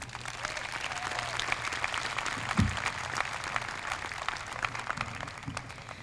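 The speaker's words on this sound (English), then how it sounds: "Please join me in giving them a big round of applause." Audience applause at an in-person university graduation ceremony in Nottingham, a steady wash of many hands clapping at a moderate distance, sustained evenly throughout with a brief louder thump partway through.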